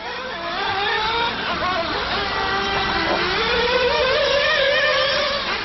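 Radio-controlled cars race around the track at the Loganville RC Complex, their high-pitched motors whining and shifting pitch as they rev and pass, a continuous buzzing drone at moderate distance.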